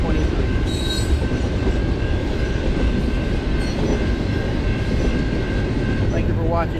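A BNSF freight train rolls westbound along the tracks, a steady loud rumble of wheels and cars with faint squeals near the end, continuous throughout.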